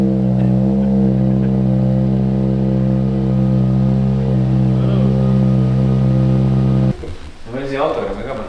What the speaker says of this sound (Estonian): Meie auto teeb kõvemat heli.